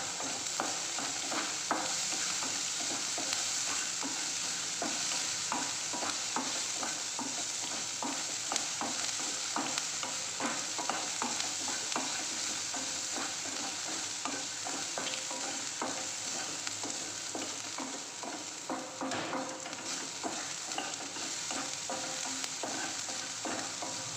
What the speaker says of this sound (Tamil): இது கொஞ்சம் நல்லா வதங்கணுங்க. இந்த வெங்காயம் இந்த ஸ்டேஜில் கொஞ்சம் உப்பு போட்டுக்கோங்க கொஞ்சமாக.